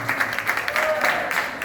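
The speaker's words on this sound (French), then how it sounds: "On peut l'applaudir déjà pour l'encourager." Classroom audience applauding a schoolgirl standing up to speak at a talk on student entrepreneurship, a brief even burst of clapping with some talk mixed in.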